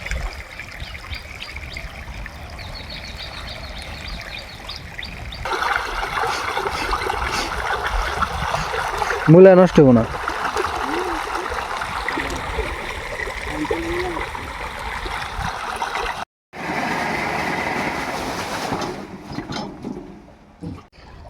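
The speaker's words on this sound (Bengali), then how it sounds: "আজকের মতো শেষ পানি দেওয়া" Irrigation water runs into a radish field in a steady gushing flow that swells louder midway and cuts off briefly near the end, with people talking over it.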